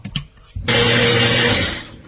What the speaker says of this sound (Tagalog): Blender ulit natin.